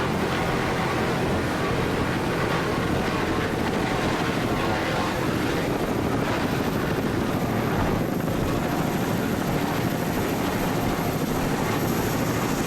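Racing powerboats from Team Outer Limits round the west-end corner of a choppy offshore race course, producing a continuous loud, dense engine roar that holds steady throughout with no break.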